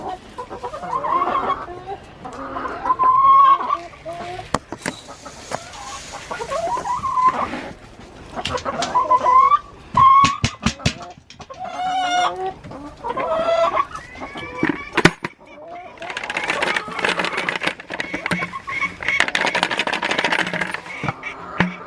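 Several chickens cluck and squawk in a busy, overlapping chorus, with sharp calls bursting out now and then and a rooster-like cry mixed in, loud and close throughout.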